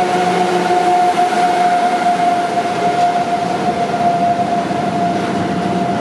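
A Vectron locomotive hauling new Stadler Flirt trainsets passes through Łowicz Główny station, a loud continuous rolling rumble with a steady tonal whine over it, close and sustained throughout.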